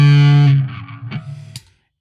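An electric guitar chord rings through a breadboarded Avalanche distortion pedal circuit with the drive turned down, a loud, buzzy distorted attack that decays over about a second, with a faint pick scrape near the end.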